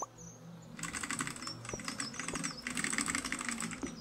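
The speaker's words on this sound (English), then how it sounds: "It could be my keyboard that you're hearing." Rapid keyboard typing on a computer keyboard, a steady flurry of close, crisp key clicks that starts after a short pause and continues without talk.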